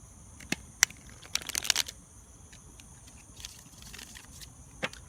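Slightly sticky tarot cards get a final quiet shuffle in a humid room, a short flurry of soft riffling clicks and flutters, close and faint against a hushed background with no speech.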